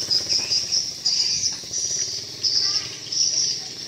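Swiftlets circle outside a swiftlet house, a steady, bright chorus of high chirping and twittering that carries throughout, loud and continuous with small pulses in intensity, while faint low background noise sits underneath.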